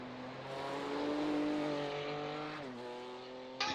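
Race car at the Nürburgring during an IMSA endurance event, engine note droning steadily and loud, pitch dipping as the car brakes hard, ending with a sharp crackle near the close.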